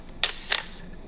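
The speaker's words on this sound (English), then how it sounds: "That even after the shutter closes, it continues to run for a little bit, which is common on these mechanical ones, but not usually this loud" A Canonflex, Canon's first SLR, fires its mechanical shutter with two sharp clicks about a quarter second apart, followed by a brief ringing mechanical whir that fades out.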